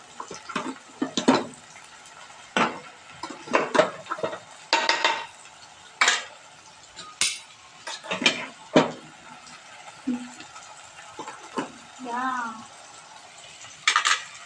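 A ground paste of coconut, coriander, ginger, garlic, cumin and salt goes into a pot of chole bhaji and gets stirred, with sharp spoon scrapes and clinks against the pot coming in irregular bursts over a quiet background.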